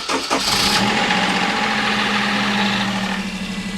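A Daihatsu L251 car engine cranking and catching after a jump pack boost, then settling into a rough, harsh idle, close and loud with no talk.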